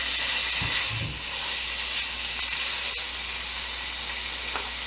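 Filet mignon, salted and peppered, sizzles and crackles steadily in a hot pan greased with olive oil spray, a close continuous frying hiss with a few faint clinks and shuffles.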